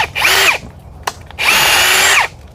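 A power drill with a 3/16 inch bit pre-drills a hole in wood for lag screws, whirring up and winding down twice, each burst about half a second to a second, with a short sharp click between them.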